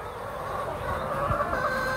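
Laying hens cluck in a coop, a steady chorus of soft, overlapping clucks and calls at close range, with no talking over them.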